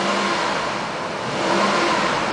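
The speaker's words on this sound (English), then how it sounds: "I'm going to rev it, so keep an eye on the left hand side" A 2007 Nissan Armada LE SUV engine revs steadily, a sustained mid-range roar that swells slightly toward the end, with no voices.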